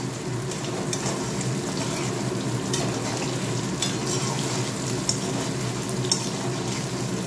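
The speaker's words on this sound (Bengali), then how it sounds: "ব্যাস হয়ে গেছে আমার পনির ভাজা। আর একটু লাল লাল করে ভাজি।" Paneer frying in ghee gives off a steady, close, crackling sizzle that runs through the whole stretch, with occasional faint spatters and pops.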